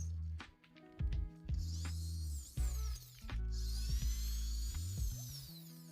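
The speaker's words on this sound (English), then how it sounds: "Drill a 3 mm hole in the center of each circle." A power drill whirs in repeated short bursts, spinning up and cutting a 3 mm hole in metal with a grinding, high-pitched whine between brief pauses.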